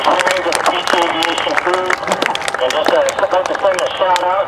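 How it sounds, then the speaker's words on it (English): Crowd applause at the Oshkosh airshow, a dense spread of clapping from a large outdoor audience that runs continuously, with voices and a public-address announcer talking over it. "give them a big round of applause if you will"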